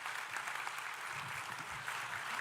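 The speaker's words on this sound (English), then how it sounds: "Can y'all give them a round of applause?" A crowd at a convention center groundbreaking ceremony applauds in a steady, moderately faint patter of clapping that lasts the whole stretch.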